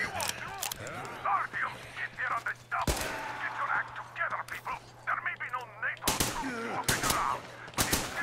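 Gunfire from the video game Metro Exodus cracks out in a few sharp, separate bursts among game sounds, with someone talking in between.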